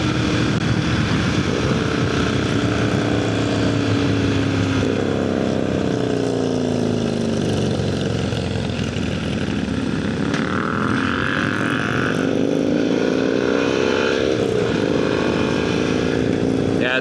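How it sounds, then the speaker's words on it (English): A vehicle engine revs hard during a power wheelie, a loud, close, sustained roar that climbs and falls in pitch through several throttle swells, with wind noise and no talking. "Little power wheelie."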